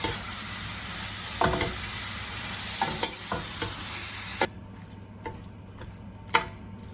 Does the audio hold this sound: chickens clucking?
no